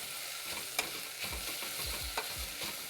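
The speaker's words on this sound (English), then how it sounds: "I just want to go ahead and beautifully fry all of my red onions." Red onions frying over low-medium heat in a pan, a continuous soft sizzle broken by several close scraping stirs of a spoon, with no voices.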